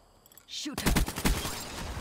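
Rapid automatic gunfire erupts in a multiplayer shooter video game after a brief electronic whoosh, a dense rattling burst of close shots that continues to the end.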